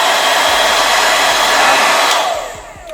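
A hair dryer switched to its hot setting blows with a steady, loud broadband rush close to the mic, a brief shift in pitch near the end as the airflow changes.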